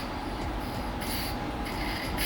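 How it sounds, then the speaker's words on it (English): A hand vacuum pump drawing brake fluid out of a car's brake system gives a continuous loud hissing, rasping suction, close and steady with no pauses and no talk. "I'm gonna use a vacuum pump that I just happen to have with an attachment to help suck brake fluid out"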